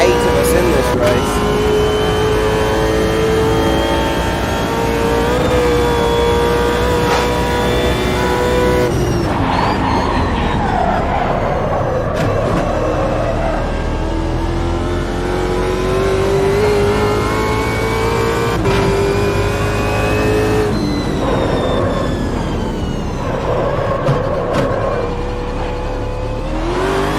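A race car engine at Bathurst in the Automobilista 2 video game drones loudly and steadily, its pitch rising and falling as the throttle is eased and reapplied through gear changes, with someone talking over the engine.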